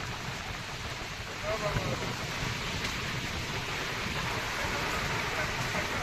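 Steady rain driven by strong wind during a Kalbaishakhi storm in Chandikhol, Jajpur, a dense broadband wash that swells louder after the first second and holds there.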